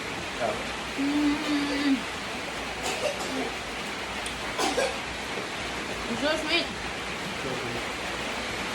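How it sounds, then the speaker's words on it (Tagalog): Heavy rain pours down in the Philippines as a steady, dense hiss that fills the background throughout, with a man and woman chatting briefly over it. "Sobrang lakas ng ulan dito."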